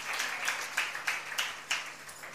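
A congregation at a Telugu evening church service claps together in a burst of scattered, uneven hand claps at moderate distance, with a few louder claps standing out from the rest.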